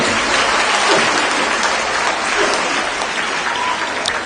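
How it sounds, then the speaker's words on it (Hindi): A large crowd at a JDU women's empowerment political rally claps loudly and continuously, a thick, sustained roar of applause with only faint traces of voices. "अपने लिए जोरदार ताली बजाइए"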